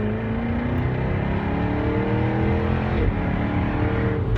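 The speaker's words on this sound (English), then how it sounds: "You can't ignore the sounds, the popping, the snapping of all the exhaust tones that come out of this thing." A Jaguar F-Type R accelerates with a loud, close, steady exhaust roar, its engine note holding throughout, with a small crackle near the end.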